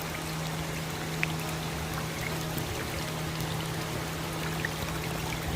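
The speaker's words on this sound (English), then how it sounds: "It's raining on us." Rain pattering onto an outdoor swimming pool under sunny skies, a steady broadband patter and trickle continuing without pause, with a faint low hum in the background.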